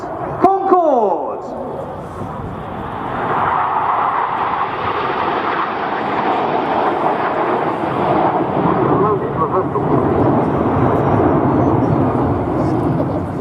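Red Arrows jets fly in formation at the Scampton airshow, presenting the Concorde formation. A loud, sustained jet roar fills the whole stretch and swells slightly toward the end.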